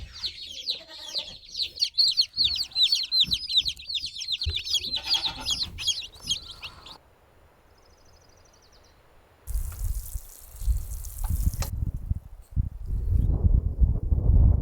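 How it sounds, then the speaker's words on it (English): Newly brought-home baby chicks peep rapidly in a dense, high-pitched chorus for several seconds. A quiet lull follows, then some low bumping and rustling noises. "We got the baby chicks home and they are settling in nicely."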